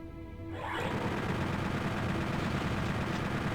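Chain gun firing steadily in Doom 64 Retribution, a dense, continuous roar of rapid shots that starts after a brief lead-in and carries on loud and unbroken to the end.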